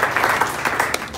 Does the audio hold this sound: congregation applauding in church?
yes